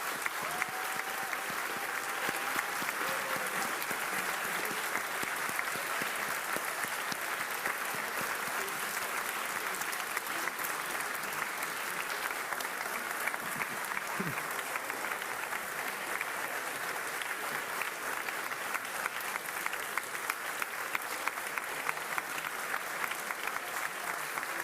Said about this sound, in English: Thank you very much for that speech, and what a round of applause.